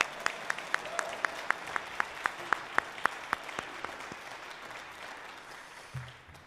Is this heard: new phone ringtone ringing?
no